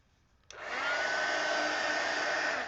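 A hair dryer switches on with a click and blows a steady, loud whooshing roar up close while drying a painted art journal page, running continuously with no talking.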